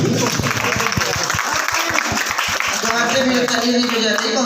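An audience at a red carpet stage show claps for two singers, crisp scattered hand claps in the first seconds, under a loud voice talking over the crowd.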